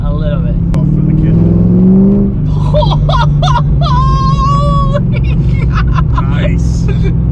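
A car engine fitted with Speed Engineering exhaust headers rumbles loudly and revs up and then settles back to a steady drone close by, while voices talk over it.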